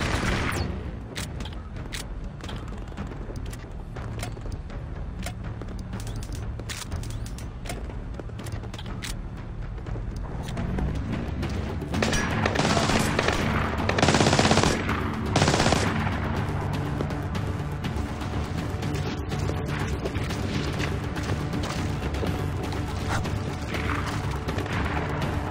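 Gunfire in the Splinter Cell: Blacklist video game, a dense, continuous barrage of shots and rattling bursts that swells louder midway, layered over game music and effects.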